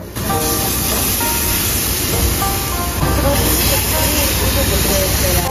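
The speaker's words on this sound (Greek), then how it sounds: "Και εδώ απλά θα σας αφήσω να ακούσετε τον ήχο του ψησίματος." Meat sizzles and hisses loudly and steadily on a Korean barbecue grill at a restaurant in Athens, a dense continuous crackle close by, with faint background chatter.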